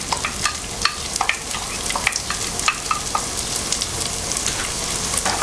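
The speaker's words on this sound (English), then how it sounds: "We're going to saute this for about 2-3 minutes." A whole diced white onion sautés in a hot pan with a steady sizzle and frying crackle, broken by occasional stirring clicks and scrapes.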